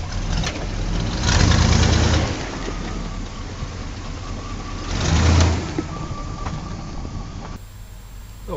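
An off-road truck with a small spare tire fitted is pulled out, its engine rumbling throughout, with two heavy revving surges a few seconds apart before it settles back to a steadier drone.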